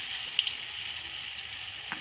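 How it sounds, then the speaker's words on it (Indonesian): Battered vegetable fritters (bakwan sayur) frying in hot oil, a steady close hiss and sizzle with a few small pops, no talking. "bakwan sayurnya digoreng hingga berwarna kecoklatan seperti ini, hingga garing dan kriuk renyah"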